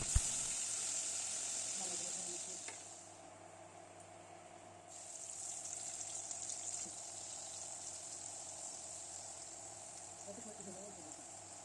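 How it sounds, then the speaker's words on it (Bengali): Paneer, capsicum, beans, carrot and soya chunks frying one after another for veg pulao, a steady sizzle that dips briefly then returns and holds, with faint kitchen clatter beneath. "তারপর পনির, ক্যাপসিকাম, বিন, গাজর, সয়াবিন একে একে ভেজে নিলাম"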